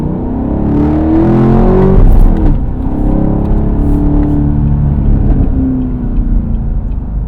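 A Camaro LT1 with a naturally aspirated 6.2-liter V8 revs loudly and close by, rising to a peak then settling into a steady deep growl, with no voices over it.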